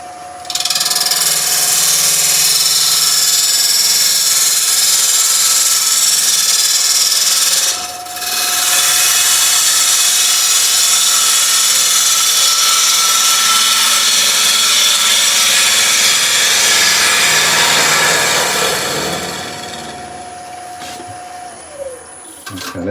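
A wood lathe turning a UK fan palm blank while the top surface is cleared: a loud, steady, hissing cutting roar with a thin mechanical whine, one brief dip partway through, then a softening near the end.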